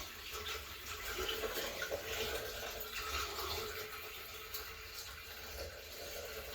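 Water from a 2.5-gallon bucket rushes and gurgles steadily into a shower drain for several seconds, a continuous close splashing flow with no voices.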